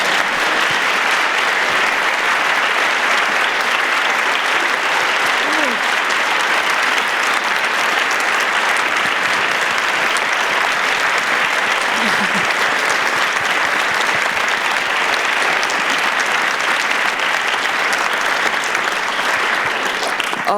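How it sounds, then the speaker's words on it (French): Sustained applause from a cinema audience welcoming director July Jung to an avant-première of her film Next Sohee, steady dense clapping throughout with no voices over it. "je vous propose de l'accueillir sous un tonnerre"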